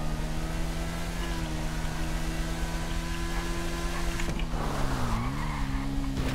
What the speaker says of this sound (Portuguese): Nossa, quase perdi a traseira da moto ali, velho.